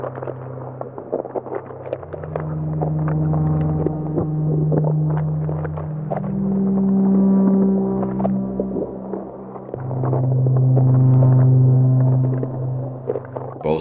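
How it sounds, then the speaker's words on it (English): A dark, low-filtered ambient sample texture rumbles steadily throughout, with sustained deep drones and slowly shifting tones swelling and fading in a continuous, murky bed, no voices present. "here a sample texture is set to a low frequency and filtered down to a dark rumbling sound"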